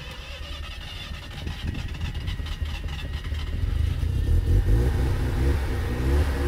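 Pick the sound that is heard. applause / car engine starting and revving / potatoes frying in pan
car engine starting and revving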